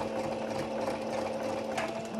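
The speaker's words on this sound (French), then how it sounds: "J'utilise le point droit de la machine tout à fait normal et je vais pouvoir commencer à faire" A sewing machine runs a straight stitch while sewing a t-shirt, giving a steady, fast mechanical whir and needle chatter, close and continuous throughout.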